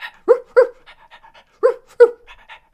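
A dog pants in quick paired bursts of breath, close and fairly loud, with brief quiet gaps between the bursts.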